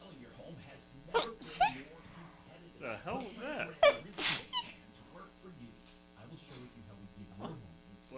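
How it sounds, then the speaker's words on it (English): A single sneeze with a drawn-out wind-up and a weak finish during a live talk show, with people talking and laughing around it. "Giving me crap about me sneezing?"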